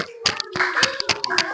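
A classroom of students claps for a group's presentation, a quick burst of uneven hand claps with a voice mixed in.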